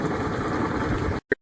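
A 2005 Yamaha F250 outboard motor idles in forward gear with a steady, slightly throaty rumble, close and continuous for about a second before cutting off, followed by a brief knock.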